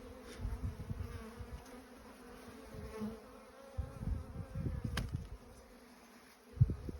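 Honey bees buzz steadily inside a small nuc hive, a close, continuous low drone with a few louder bumps and knocks.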